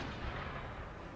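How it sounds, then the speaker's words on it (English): Mortar fire in the Empire Total War video game, a dense, rumbling barrage of distant booms blending into a continuous roar of battle. "Bloody mortars."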